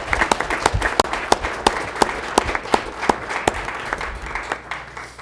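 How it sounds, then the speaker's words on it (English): An audience at a regular city council meeting applauds the debate team: a small group's distinct, scattered claps ring out close and clear for several seconds. "A big round of applause for our debate team."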